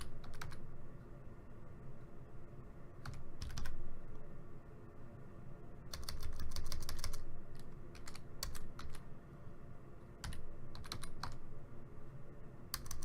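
Typing on a computer keyboard comes through as short bursts of quiet, close key clicks separated by pauses, over a low steady room hum, with no one talking.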